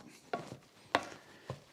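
A wooden spoon pressing into boiled potatoes in a pot, three soft, dull knocks spaced roughly half a second apart, close and fairly quiet, with faint scraping between them.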